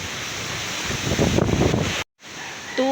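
Strong gusts of Typhoon Tino roar across the microphone as a broad, rushing blast that swells in the middle before a sudden brief cutout, followed by a faint tonal beep near the end.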